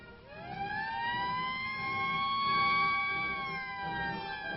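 A military alert siren in the Panama Canal Zone wails, rising then holding steady, loud and continuous, with a low rumble of traffic or engines underneath.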